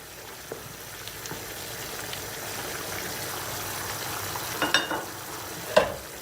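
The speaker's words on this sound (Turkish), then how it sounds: "Şöyle bir karıştırıyoruz." A spoon stirs rice with boiled corn and hot boiled water in a pot. A soft, steady simmer runs under a few louder scraping stirs toward the end.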